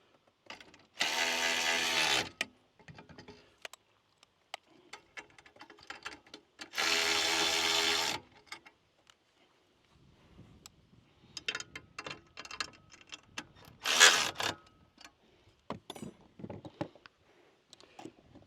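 Bolts with 14mm heads and 13mm nuts being tightened at the corners of a clay thrower during assembly, heard as two long, steady bursts of a power driver with scattered clicks and handling clatter between them.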